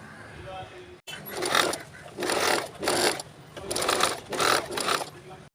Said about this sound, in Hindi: यहाँ से लेके यहाँ तक इसकी स्टिचिंग करेंगे सबसे पहले